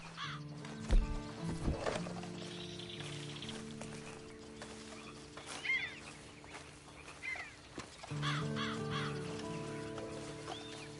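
Game horse from Red Dead Online, with faint hoof clip-clops and a brief whinny over a steady bed of ambient music and outdoor game sounds, with no voices.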